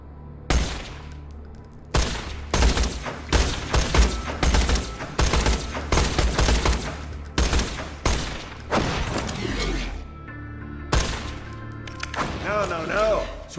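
Repeated bursts of fire-weapon gunfire against bandits in Borderlands 2, loud, close volleys coming roughly every second with short gaps, mixed with game effects and a voice talking over parts of it.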